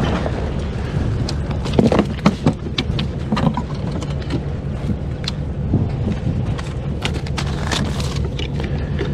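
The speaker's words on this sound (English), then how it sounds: "that wind is picking up." Strong outdoor wind buffets the microphone at a flea market, a steady rumbling roar broken by gusty thumps and scattered knocks.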